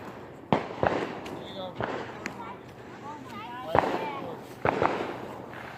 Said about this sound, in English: Is there any more fireworks?